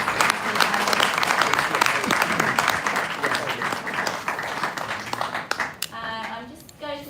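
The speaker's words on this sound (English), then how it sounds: "Can we just give a round of applause?" Applause from an audience at the Commonwealth Investment summit in London, dense steady clapping filling the room before it thins out, with a voice speaking near the end.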